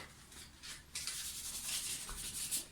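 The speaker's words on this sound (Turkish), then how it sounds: "Ufak bir zımpara işimizi görür." Sandpaper scrapes back and forth against a rubber bicycle inner tube in soft, quick strokes, close by and fairly quiet.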